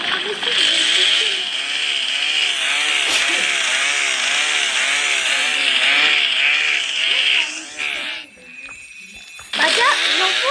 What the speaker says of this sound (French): il y avait une tronçonneuse